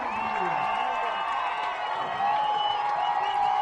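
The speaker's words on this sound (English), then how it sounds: "Crowd is getting loud." A football stadium crowd during a game keeps up a loud, steady roar of cheering and voices for the whole stretch, with no clear breaks.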